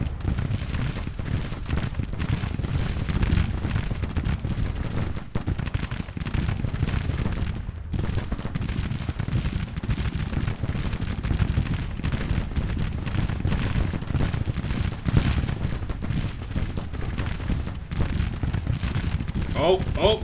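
Civil War artillery and massed musket fire roar continuously in the Grand Tactician strategy game, a dense, loud rumble of booms and crackling volleys throughout a battle at an orchard.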